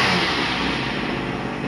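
A small 26cc two-stroke brush cutter engine with four loose screws runs steadily at high speed, a loud, buzzing drone with a slightly rough, rattling edge throughout.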